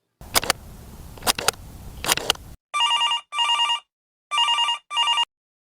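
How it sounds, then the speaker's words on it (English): An old-style telephone bell rings in a radio drama as a call goes through to the police department: four loud, evenly spaced double-burst rings, preceded by a few clicks and rustles of handling or dialing. "Ringing the police department."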